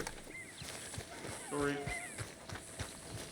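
Rhythmic horse hoof clip-clops trot along under Red Dead Redemption 2 game music and effects, with a brief spoken word in the middle.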